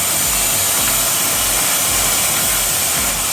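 A household vacuum cleaner running steadily and loudly up close, a continuous broadband whooshing roar with a low motor hum underneath, used to tidy up outdoors in a garden.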